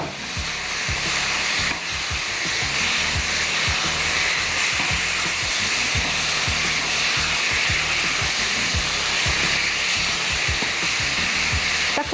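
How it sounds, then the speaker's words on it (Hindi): Chicken stir-fries in oil over a high flame with a loud, continuous sizzle and hiss, close and steady for the whole stretch, punctuated by low knocks of stirring. "Add your chicken. Stir fry cooking ख्याल रखिएगा हमेशा हाई फ्लेम पे होती है"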